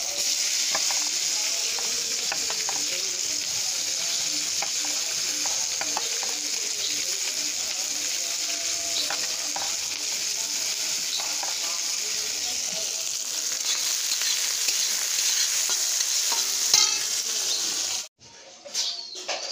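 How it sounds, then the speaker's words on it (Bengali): Tomatoes and chillies fry in a hot kadai, a steady loud sizzle with faint scraping as they are stirred, cutting off abruptly near the end. "টমেটো লঙ্কা সব ভেজে নিই।"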